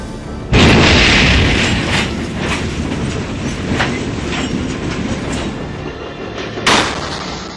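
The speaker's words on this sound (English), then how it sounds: "collision between passenger trains occurred when the leading train went off course." Passenger trains colliding after the leading train went off course: a loud, dense rumble of rolling stock with a heavy impact boom at the start and another near the end.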